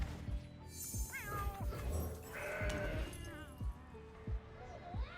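A goat card in the Legends of Runeterra video game gives a synthetic bleat with wavering pitch, mixed among layered game effects, music and a low thumping beat, close and fairly loud while a voice talks over it.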